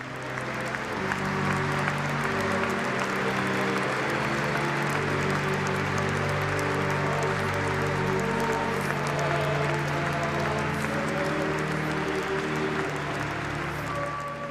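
Mourners give long, steady applause for the coffin of a former mayor of Lyon at the end of a funeral ceremony, a sustained wash of clapping with faint murmuring beneath.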